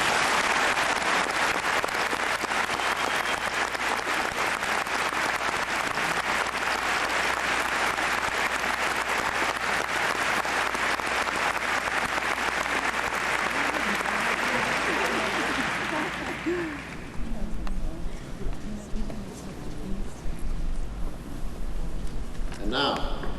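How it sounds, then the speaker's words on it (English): Audience applause at a 1999 UMass Amherst university graduation ceremony: a dense, steady roar of clapping from a large crowd lasts about sixteen seconds, then dies away into a quieter hall with scattered low sounds. "Please join me in applause."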